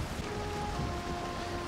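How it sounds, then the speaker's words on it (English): Steady rain falls in the Valheim survival game while a sailing boat is rowed on open water, a continuous broadband hiss with faint low water sounds underneath and no talking. "We got some rain going on."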